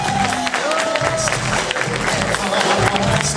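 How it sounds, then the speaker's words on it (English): A convention audience at a Pokémon game show gives a contestant a round of applause, a steady dense wash of many hands clapping with a few cheers mixed in, filling the room throughout. "Let's give her a round of applause."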